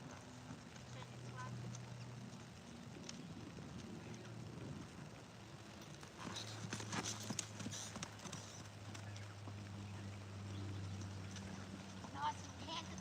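A horse cantering outdoors on a windy afternoon, soft rhythmic hoofbeats faint under gusting wind and a low steady hum, with a person talking at times.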